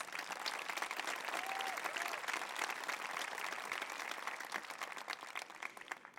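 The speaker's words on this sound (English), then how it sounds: "One more applause, please." High school graduation crowd applauding for the class of 2020, a broad sustained roar of many hands clapping from a large audience, fairly distant and steady, with faint voices and a brief whistle mixed in.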